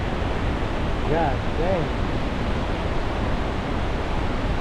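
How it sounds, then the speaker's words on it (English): Koosah or Sahalie waterfall on the McKenzie River in Central Oregon roars as a dense, steady broadband rush, with a man briefly exclaiming over it. "How about that for a waterfall?"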